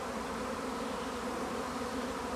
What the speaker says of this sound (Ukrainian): зараз всі бджоли повертаються сюди на пасіку